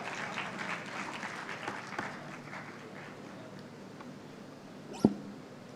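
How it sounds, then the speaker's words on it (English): A conference audience at an international gathering on world religions claps with soft, patterned applause that fades over a few seconds, with one sharp knock near the end. "the applause must never stop."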